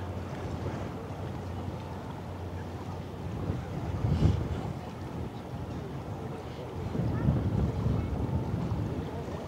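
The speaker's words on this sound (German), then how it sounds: "Oh, heute freut man sich echt so ein bisschen über den Wind, oder?" Steady wind gusts across the deck of a cruise ship leaving Hamburg harbour, a continuous broadband rush with two stronger surges, loud and close to the microphone.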